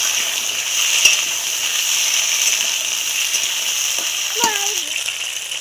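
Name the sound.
frying taro and potato in hot oil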